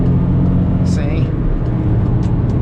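Peugeot 208 with a 1.2 PureTech engine pulling hard in third gear at around 100 km/h, a loud, steady cabin drone of engine and road rumble with brief faint voice sounds.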